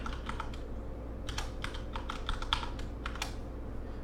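Python code being typed on a computer keyboard, with quick bursts of close key clicks in an uneven rhythm, briefly pausing between runs, over a steady low hum.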